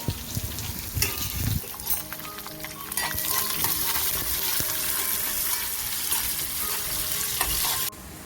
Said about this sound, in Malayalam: ശരിക്കും നമ്മുടെ കടുക് മൂത്ത് തുടങ്ങി